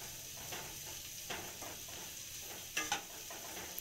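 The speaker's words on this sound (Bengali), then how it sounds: "একসাথে নিম আর বেগুনে নেড়ে চেড়ে নিচ্ছি" Fried neem leaves and brinjal are stirred together in a pan with a little oil, a soft continuous sizzle broken by a few light scrapes and a pair of sharper metallic clinks near the end.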